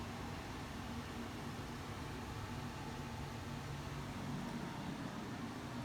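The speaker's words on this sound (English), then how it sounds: "my air conditioner is quite noisy" A noisy air conditioner running on low gives a steady, even broadband hiss and hum with no change in level throughout, faint and continuous, with no talking.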